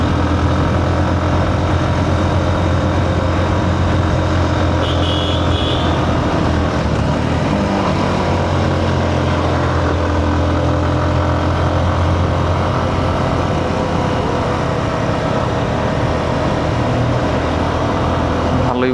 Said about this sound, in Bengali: ওই যে বাসটা উঠতেছে।